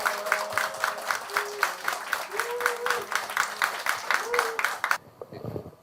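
Audience applause greets two human-rights lawyers at a Korean talk event, sustained dense clapping under a host's voice and a faint musical tone, stopping abruptly near the end.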